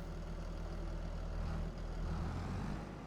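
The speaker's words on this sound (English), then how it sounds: "So start the engine." A Fendt tractor engine in Farming Simulator 25, idling with a steady low diesel rumble and a faint hum on top, fairly quiet and even throughout, with no voices.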